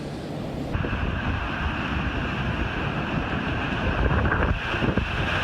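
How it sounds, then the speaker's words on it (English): Rough surf from Hurricane Jose at the Jersey Shore pushes against the dunes, a constant roar of waves under heavy wind buffeting the microphone, with a few louder surges near the end. "we see the waves are already going up against the dunes"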